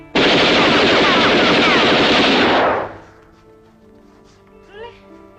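Gunfire in a film reenactment of a shooting: one loud, dense burst of rapid shots runs for almost three seconds, then stops abruptly, leaving a quiet background with a faint brief sound near the end.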